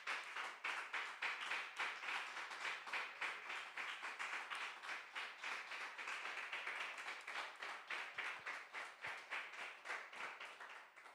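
A church congregation claps in a steady rhythm at the close of a sermon, a faint, even pulse of hands continuing throughout.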